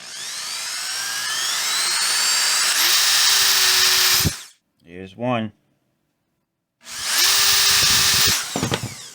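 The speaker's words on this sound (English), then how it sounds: "we're just going to very carefully drill some holes" A loud power drill whines steadily for about four seconds, drilling holes in a 1980s Ampeg V3 combo amp footswitch, stops while a voice speaks briefly, then drills again for a couple of seconds.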